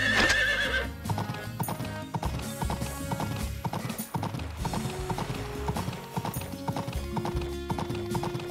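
Horse hooves clip-clop in a steady rhythm in the STORY of SEASONS: Pioneers of Olive Town video game, with a whinny near the start, set against game music.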